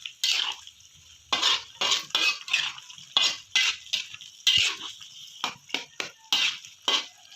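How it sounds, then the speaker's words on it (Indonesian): Chicken neck tongseng with sweet soy sauce being stir-fried in a pan, heard as a steady run of rhythmic scraping and clinking strokes from a spatula against metal, close and clear, with no talking. "Kalau kita oseng-oseng kembali seperti ini teman-teman"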